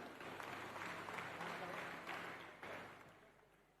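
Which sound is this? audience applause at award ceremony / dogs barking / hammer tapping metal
audience applause at award ceremony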